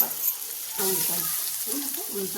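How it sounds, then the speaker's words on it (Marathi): Finely chopped onion fries in a pan with green chillies, a bright steady sizzle joined by soft scrapes of stirring, fairly close, with a voice murmuring faintly beneath. "बारीक कांदा कापायचा आणि छान भाजून घ्यायचा तो"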